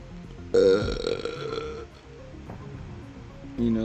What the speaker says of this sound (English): Should I make burping my thing?